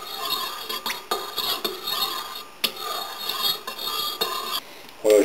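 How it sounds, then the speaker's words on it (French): Hand stirring of lye into an oil solution in a container for soap making, repeated scraping and rubbing strokes with light clinks against the vessel, close and uneven in rhythm, without talk. "Je peux commencer à mélanger pour bien répartir la soude dans la solution d'huile."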